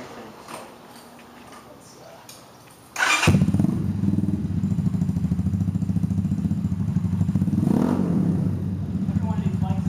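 A Cleveland CycleWerks motorcycle fires up after a quiet moment with a sharp start, then settles into a loud, close, steady idle with a throbbing rumble and a slight rise in revs near the end.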